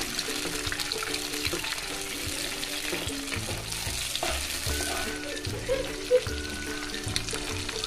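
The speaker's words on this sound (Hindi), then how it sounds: "दो से तीन मिनट फ्राई करेंगे।" Onion, green chilli and tomato fry in a pan with a steady close sizzle, broken by repeated scraping stirs of a spoon against the pan, with no voices.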